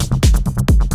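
Punchy kick drums and bass sit under a chopped breakbeat loop in a music production session, giving a tight, loud, repeating groove of snappy hits roughly every fifth of a second.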